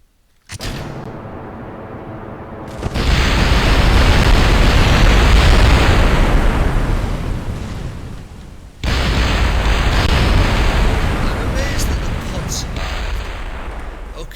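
Rocket engines at full thrust in the video game Kerbal Space Program, a loud, dense, rumbling roar that rises sharply, dips briefly, then resumes strongly.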